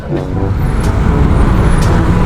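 Heavy road traffic in Luzon, Philippines: a dense, steady roar of engines and tires close by, with a couple of brief high hisses like air brakes, and no break in the rumble.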